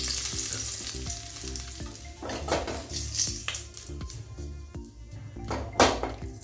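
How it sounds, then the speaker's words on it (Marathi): Tomatoes go into a spoonful or two of hot oil for a fish curry and sizzle loudly. The frying hiss swells with stirring, and spoon and pan clatter comes through in several sharp bursts, with no talk. "एक दोन चमचे मी तेल घातलेलं आहे टमाटपत्र घालून घ्यायचं"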